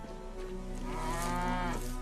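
Cattle lowing by a ranch fence, one long drawn-out moo swelling and then tapering off over about two seconds, close and steady against a faint outdoor background.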